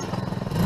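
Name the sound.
engine revving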